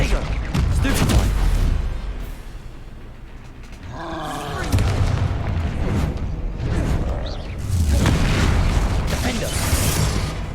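Spell effects in a magic duelling video game, including a Stupefy stun spell: rumbling magical bursts and whooshing blasts that swell and fade across the clip, with a voice speaking intermittently over them.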